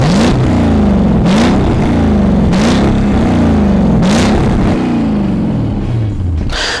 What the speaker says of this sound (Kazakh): V8 дауысы бар. Дауысын тыңдатақшы айтпақшы.